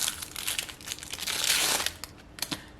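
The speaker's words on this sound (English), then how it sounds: "I gotta take off all the washi tape" Washi tape peels off a wood panel after acrylic painting, a close, soft crinkling and tearing in several short pulls with brief pauses between them.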